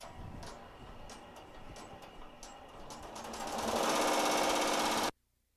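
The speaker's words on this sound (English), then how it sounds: "I will just go ahead and press start, and we'll let this guy sew out" An embroidery machine sews out a design on a bucket hat with a rapid, steady needle clatter and faint periodic ticks, growing louder and denser near the end before stopping abruptly.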